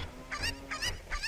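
Cucco chickens in the Zelda: Ocarina of Time video game give three short, honking clucks in a quick uneven series over a soft background hum.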